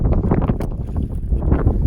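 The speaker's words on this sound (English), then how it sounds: "it's windy as hell out here" Blustery Wyoming wind rumbles and thumps against the microphone in uneven gusts on a remote trail, loud and close, with no one speaking.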